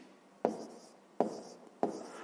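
Numbers being written by hand in three short scratchy strokes, evenly spaced, close and fairly quiet, with no talking.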